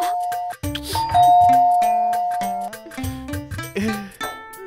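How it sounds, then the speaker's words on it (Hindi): A doorbell chimes loudly and close by in a home, sounding repeated ding-dong tones that ring several times in quick succession with no one speaking. "पता नहीं कौन घंटी बजा देता है"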